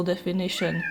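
A pet cat meows close by, three short, loud calls in quick succession, mixed with someone talking.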